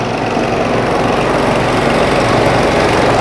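A steady, loud engine rumble from a 37 HP fuel-injected trailer-mounted sewer jetter drones on without a break, low and close, with a constant mechanical vibration and no voices.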